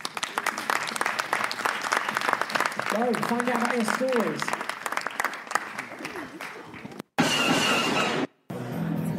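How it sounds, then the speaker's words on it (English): Audience applause at a live fan event at Pinewood Studios in London, a sustained wash of clapping from a crowd filling most of the clip, with someone speaking over it near the end. "Please, once again, a round of applause"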